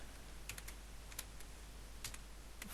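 Java code being typed on a computer keyboard in NetBeans: a few quiet, scattered key clicks in short bursts over a low steady hum, with no voice.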